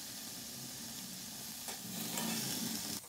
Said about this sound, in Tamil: வாழை தண்டை போட்டு நல்லா ஃப்ரை பண்ணிக்கலாம்